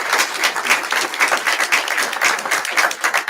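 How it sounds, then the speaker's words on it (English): An audience gives a round of applause, dense, steady clapping from many hands filling the short stretch without pause. "Give Ron a big round of applause"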